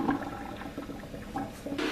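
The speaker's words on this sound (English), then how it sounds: "and now we drain it." Water from boiled watermelon rind pours out as it drains, a steady splashing gush like a flush, moderately loud and close for the whole stretch, with no talk.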